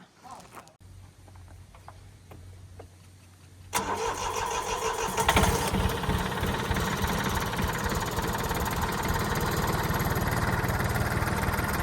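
An Iseki three-cylinder diesel tractor, a 17-horsepower four-wheel-drive model, cranks briefly and fires up, then settles into a loud, steady, rattling idle close by.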